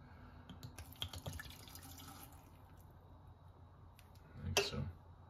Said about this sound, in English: So then we add in the alcoholic portion.